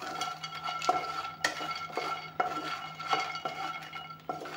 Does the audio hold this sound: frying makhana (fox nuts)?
yes